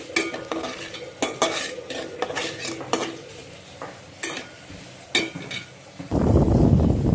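Spatula stirring and scraping spice paste with turmeric and a splash of water in a pan for a prawn and pointed gourd curry, with repeated clinks and scrapes, then a louder steady sizzle near the end.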